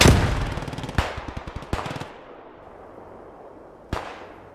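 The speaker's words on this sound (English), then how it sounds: "Come on, go toward the gunshots." Gunfire in the World War II game Squad 44 on the Driel map: a rapid machine-gun burst, then two more sharp volleys and a single later shot, loud and echoing over a low battlefield rumble, with no talking.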